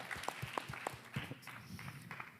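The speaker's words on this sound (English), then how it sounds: "So give yourselves a round of applause." A small audience of nurses at a healthcare panel event gives themselves a round of applause. The clapping is faint and scattered, with a few distinct claps that thin out quickly.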